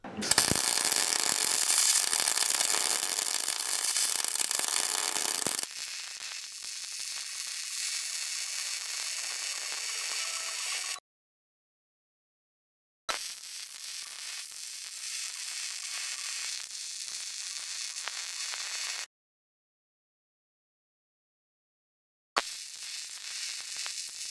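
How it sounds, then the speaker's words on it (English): Arc welding a cast axle housing casting to a steel tube on a custom radius arm suspension project, a loud steady crackling sizzle in long continuous beads broken by two short silent pauses. "So instead, I'm just going to weld the casting to the tube."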